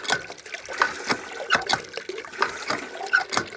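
Water from a hand-dug backyard well is hand-pumped into a bucket, giving a steady, irregular splashing and trickling with rhythmic surges, close by and with no talking.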